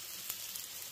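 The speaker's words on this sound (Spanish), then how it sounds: "aquí voy a dejar que se cocine el pastel de vegetales" A vegetable pie cooks in a covered frying pan, giving a steady, soft, continuous sizzle with a faint crackle or two, heard alone at low volume throughout.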